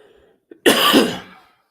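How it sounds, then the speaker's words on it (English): A single harsh cough, close and loud, preceded by a brief intake of breath, then silence. "Stupid cough."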